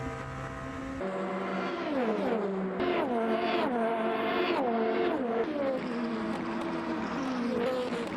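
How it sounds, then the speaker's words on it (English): An LMP2 prototype race car in Le Mans Ultimate at Monza screams through repeated upshifts and downshifts, its engine pitch climbing and dropping in sharp stepped sweeps, loud and continuous with no talk. "I love how these LMP2 sound as well."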